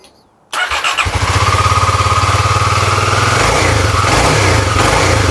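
A cheap used motorcycle engine starts after a short silence, catches quickly and settles into a loud, steady, close-up running idle with a rapid rhythmic putter.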